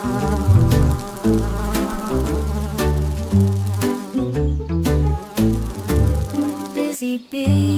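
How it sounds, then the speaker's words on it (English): Bees buzz in a children's nursery-rhyme song, a steady droning hum woven through bright, bouncy music, fairly loud and continuous, with short breaks near the end. "Busy bees in golden air, buzzing softly everywhere."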